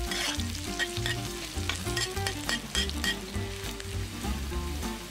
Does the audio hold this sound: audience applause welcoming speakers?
no